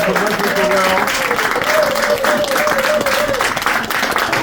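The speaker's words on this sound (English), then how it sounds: "Can we get another round of applause for Leslie Correll?" An audience at a celebration of life claps loudly and steadily, dense applause with voices and cheers rising over it.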